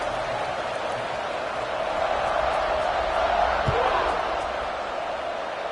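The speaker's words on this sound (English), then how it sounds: "this crowd is feeling themselves after that last drive" A football stadium crowd at a college game cheers and roars in a dense, continuous wash of noise, loud and sustained throughout, with a brief thump partway through.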